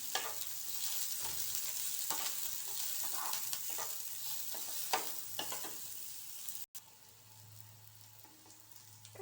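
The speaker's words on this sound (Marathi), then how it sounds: "तो पण छान तेलामध्ये परतून घ्यायचा आहे कांदा।" Chopped onion sautéing in hot oil in a pan for vegetable Hakka noodles, a steady close sizzle with occasional stirring scrapes throughout, continuing alone without talk.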